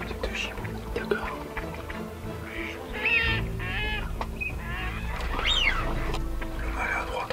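A pair of gadwall ducks calls from open water during a late-season duck hunt, giving short nasal quacks and squawks at close to middle distance, with low background noise throughout.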